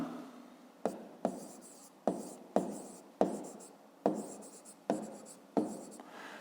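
A pen scratches out a fifth-grade math exercise by hand in roughly nine short, crisp strokes at an uneven rhythm, close and fairly quiet.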